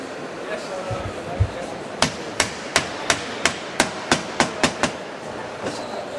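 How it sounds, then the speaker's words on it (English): A Hinge Pro tool cuts a hinge recess into wood, giving a quick run of about ten sharp, evenly spaced impact-like knocks, close and loud over a low workshop background. "You watch how fast this cuts a hinging."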